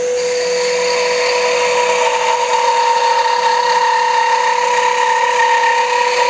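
A spinning tool cuts a crochet hook blank turning at high speed, producing a loud, steady whine with strong sustained tones and a constant cutting hiss, alone without talk.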